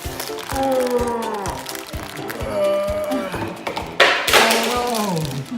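A plastic toy bag, a small wine bag from a Coles Little Shop toy set, crinkles and crackles as it's handled and pulled at, with taps and thumps while children talk excitedly over the rustling.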